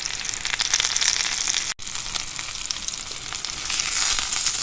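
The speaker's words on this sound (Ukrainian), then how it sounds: "Ні, воно піджарюється, я просто перевертаю, щоб з двох сторон обжарилося" Battered cabbage and mushrooms fry in a pan, giving a steady close sizzle with crackles; a brief break comes near the middle before the hiss resumes and grows slightly louder, with no one speaking.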